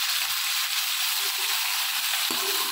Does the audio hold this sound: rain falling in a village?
no